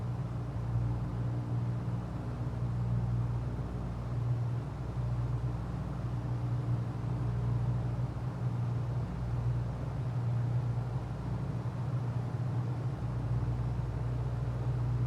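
Simulated light aircraft engine running at 1,700 RPM in a flight simulator game, a steady low droning hum that holds constant throughout with no talking.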